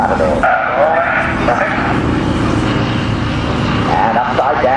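Red Bull Matadors aerobatic plane roaring past at an air festival, a loud sustained engine drone that swells and shifts in pitch as it sweeps by, with a commentator talking over it.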